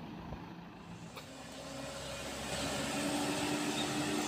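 A heavy diesel truck loaded with bricks labours up an extremely steep, rain-slick slope, its low engine drone steady and building slightly louder toward the end, with distant rumbling in the background.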